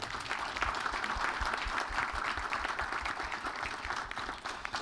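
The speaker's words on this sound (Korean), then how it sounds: "다시 한번 응원의 박수를 부탁드립니다" Audience applause in a hall at a 2018 South Korean innovation growth report event, a sustained dense wash of many hands clapping, steady and even throughout.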